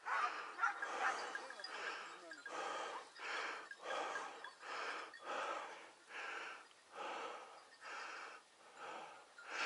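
Hunting dogs on a hare hunt bark in a steady, rhythmic series of about a dozen yelps and bays, somewhat distant and fairly faint, with no speech over them.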